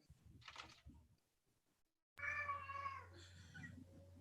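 A pet cat meows loudly and close during a community development department online meeting, its voice drawn out with clear tonal harmonics over a steady low hum, following a quieter, fainter earlier call.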